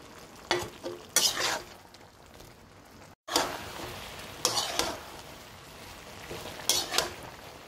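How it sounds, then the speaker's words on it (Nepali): A tomato mixture fries in a pan while being stirred, giving a steady close sizzle broken by several bursts of scraping and stirring, with a brief silent gap midway and no voices. "यसरी मजाले चलाउनु पर्छ, सबै मिक्सअप हुनुपर्छ।"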